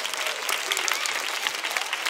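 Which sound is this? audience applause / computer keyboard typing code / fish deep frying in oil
audience applause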